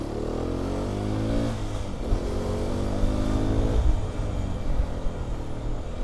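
A Hero XPulse 210 motorcycle engine revs and accelerates with a somewhat jerky, non-linear pull, a close rumbling drone rising in pitch and dipping again, with no talk.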